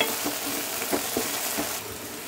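Okra sizzles in a pan as chili powder is stirred in, with a brief crackling fry and a few soft scraping stirs over about two seconds. There is no talking.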